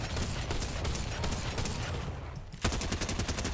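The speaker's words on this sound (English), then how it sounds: "I'm about to shotgun you." A shotgun fired at a llama in a video game, dense loud booming blasts in rapid succession, a brief dip, then more heavy shots close up.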